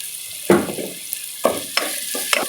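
Onions sauté for chicken pulao, making a steady close sizzle broken by several scraping stirs against the pan, with no voices.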